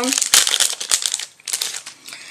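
Hands open a crinkly plastic package from an online haul: loud, close crackling and rustling in irregular bursts, pausing briefly before more crinkling, with no talk over it.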